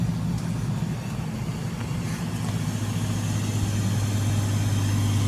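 An old, run-down police truck idles with a steady low rumble and throb, close and continuous, with a faint hiss over it and no talk.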